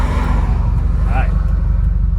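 A Subaru WRX engine hums at a steady low idle-to-light-throttle rumble as a novice driver works the pedals, loud and close inside the cabin, with a brief voice cutting in.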